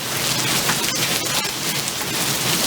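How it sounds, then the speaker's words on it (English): Dense, steady pattering of pea-sized hail striking the ground and grass during a monsoon storm, a constant hiss-like clatter with no voices. "There's some pea-sized hail on the grass."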